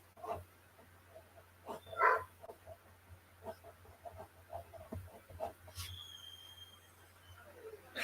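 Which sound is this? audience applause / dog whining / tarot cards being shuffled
dog whining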